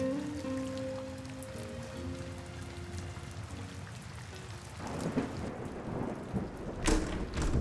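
Steady rain pours down with rumbling thunder. The downpour is loud and continuous, with the thunder swelling toward the end and tonal music faintly underneath at first.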